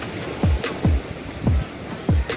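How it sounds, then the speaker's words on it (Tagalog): Strong sea waves surging against the shore in gusty wind at a fishing spot, about four heavy rushing washes in quick succession, close and loud, with wind noise between them. "malakas pa naman yung alon at yung hangin"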